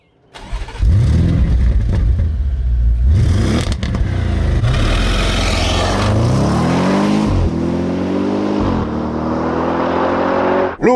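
An Audi RS6 with a 4.0 V8 of 605 hp fires up with a loud bark, then settles to a rumbling idle before several sweeping revs rise and fall, close and powerful.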